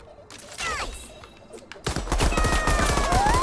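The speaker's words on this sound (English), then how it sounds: "That was a holy hand grenade!" A holy hand grenade in Worms Rumble detonates partway through, setting off a loud, crackling explosive burst that rolls on with rapid blasts after quieter game sounds.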